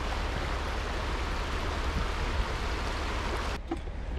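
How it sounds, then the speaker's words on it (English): A creek about fifteen feet wide flows steadily beside a rural homestead cabin, producing a dense, continuous rush of water heard alone at close range. "just listen to the water"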